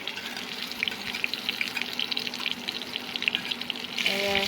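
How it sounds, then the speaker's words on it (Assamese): Bay leaf dropped into hot oil in a heated wok, giving a steady close frying sizzle and crackle throughout, growing slightly louder near the end. "ইফালে কেৰাহী গৰম হৈ গ'ল, তেল দি দিছোঁ। প্ৰথমতে তেজপাত দিছোঁ।"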